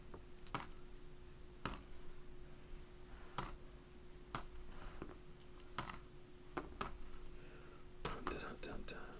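Copper pennies from a penny box fall and roll, about eight crisp clinking drops arriving at a steady pace, close by, with a busier scatter of coins at the end.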